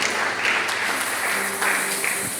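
A church congregation applauding at a service, a steady wash of many hands clapping together at moderate distance, continuous throughout without a clear break and no talk over it.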